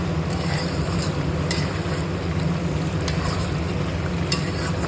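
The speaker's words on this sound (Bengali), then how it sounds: "আমি উপর দিয়ে গরম মশলা ছড়িয়ে ভালো করে নেড়ে চেড়ে দিলাম" Egg, potato and soybean curry stirred in a pan over a gas flame, a steady close sizzle and bubbling with faint scraping spikes from the spoon throughout, no voices.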